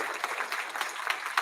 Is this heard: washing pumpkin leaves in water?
no